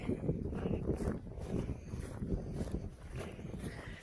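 Steady, low-frequency wind noise rumbles and buffets against the microphone throughout, with occasional faint crunching steps underneath.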